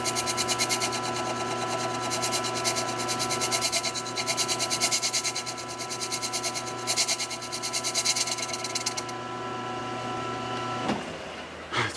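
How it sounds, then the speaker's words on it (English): A fresh cutter takes light passes on a wobbling lure blank in a machine shop, a rhythmic, pulsing scrape riding over steady motor hum that cuts off near the end. "attempt to take really light passes, and I've got a fresh cutter"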